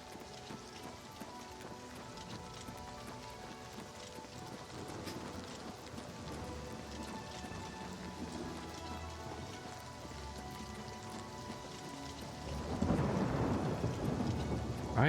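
Steady rain falls across a game landscape in Oblivion Remastered, with soft patter throughout and a louder rumble of thunder rising near the end.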